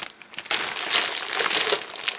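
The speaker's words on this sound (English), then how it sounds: "this is your standard plastic, it's not the stretchy foil, it's actually just normal plastic bags" Standard thin plastic bags holding the parts of a 1/48 scale A-10C model kit crinkle and rustle loudly and continuously up close, after a brief quieter start.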